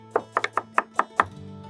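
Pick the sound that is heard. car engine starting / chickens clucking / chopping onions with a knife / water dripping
chopping onions with a knife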